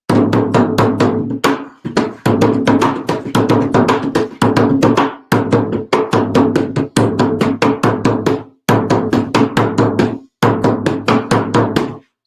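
An ngoma hand drum, the African ancestor of the conga, struck in a quick steady rhythm of close, resonant hits, with phrases broken by short pauses and no talk.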